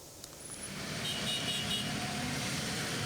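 Heavy motorcycle and vehicle traffic on the Pantura arterial road in Cirebon, West Java, forms a dense, continuous road roar that swells slightly, with a brief horn toot early on.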